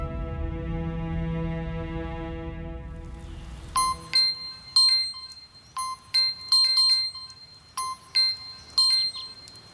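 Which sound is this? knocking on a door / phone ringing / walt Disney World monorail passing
phone ringing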